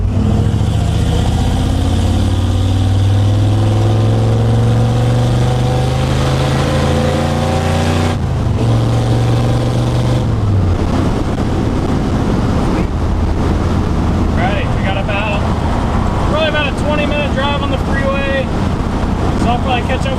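A Ford F100 truck accelerates onto a freeway, its engine note sweeping upward through gear changes amid steady loud wind and road rush, with a voice speaking briefly over the noise.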